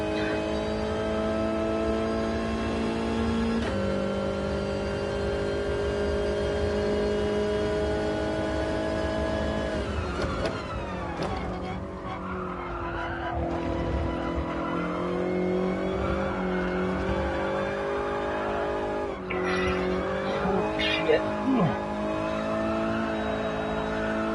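A Toyota race car engine in a racing video game revs high and sustained, a steady droning whine with pitch shifts and brief dips as gears change and the car turns, with faint skids near the end.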